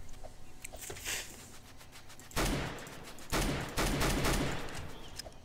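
Rapid gunfire from new weapons in the Roblox game Mad City, with scattered single shots and then dense bursts of fast firing in close succession, loud and continuous in stretches with brief gaps between volleys.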